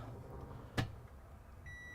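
A microwave in a 2022 Midwest Automotive Designs Passage RV powers on through its inverter with a single sharp click, followed a moment later by a steady electronic beep tone, in a quiet interior.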